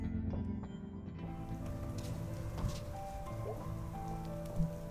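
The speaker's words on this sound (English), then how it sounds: "It's just rain." Steady rain falls in the video game Night in the Woods, a soft, even patter of drops on surfaces with low ambient hum and occasional faint tones underneath.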